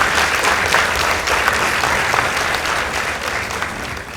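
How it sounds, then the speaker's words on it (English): An audience claps steadily for the winning school at the close of a secondary school debate contest, a continuous even round of applause with no talking over it. "Let's give them a round of applause, please."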